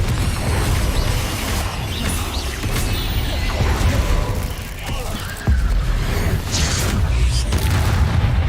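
Spell blasts and explosions in the Hogwarts Legacy video game on PC, with dense booming impacts and crashes filling the whole stretch, loud and continuous, while a player casts spells aloud over the combat.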